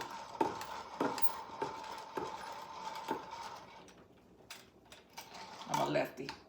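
Quail eggs are beaten in a bowl to break the yolks, giving light, regular clicking taps about every half second and a busier clatter near the end.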